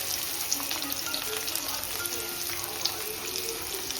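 Finely chopped onion frying in hot oil, a steady dense sizzle with faint crackle that holds evenly throughout.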